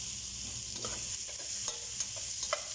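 Onions sauté in a hot pan while a utensil stirs them, a continuous sizzle broken by several light scrapes and clicks, close by and without speech.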